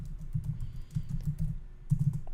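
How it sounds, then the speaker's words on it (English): Close typing on a computer keyboard: quick irregular clusters of soft key clicks over a low steady hum, with no talking. "what I'm going to do is I'm going to type in here"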